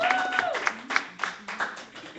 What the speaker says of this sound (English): let's give her a round of applause for her just being bold